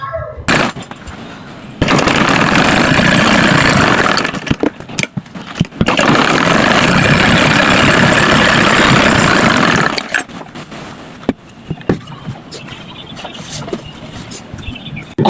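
A sewing machine runs in two long, loud bursts while stitching a waistband strip onto gathered fabric, its steady whirring motor starting and stopping close by, followed by faint clicks and handling noises.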